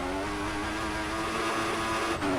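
A McLaren Formula 1 car entering the pits at the Sochi Russian Grand Prix in the game F1 2014, its engine holding a loud, steady high-pitched whine with layered harmonics that drops off abruptly near the end.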